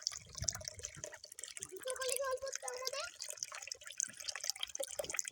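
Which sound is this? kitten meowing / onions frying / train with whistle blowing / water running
water running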